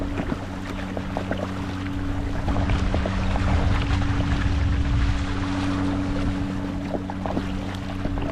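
A Sea Eagle electric kayak speeds across open water, throwing a wake, giving a continuous rushing hiss of water and wind over a low steady motor hum.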